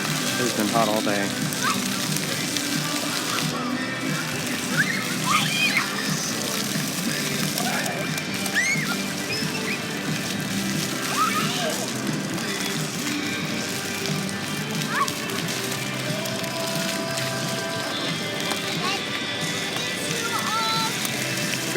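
Water splashing and sloshing at a water play area in a Universal Orlando theme park on a hot day, a steady wash of spray under a busy crowd, with voices talking and children calling throughout.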